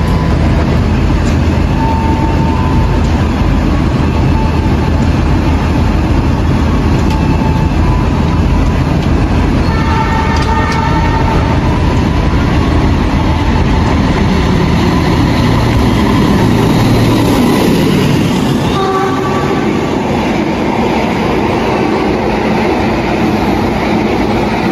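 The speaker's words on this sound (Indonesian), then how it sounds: "Kereta api Taksaka melintas langsung di Kutoarjo." The Taksaka passenger train runs straight through Kutoarjo station, a loud sustained roar of wheels and rumbling carriages with rhythmic clatter filling the whole stretch before easing near the end.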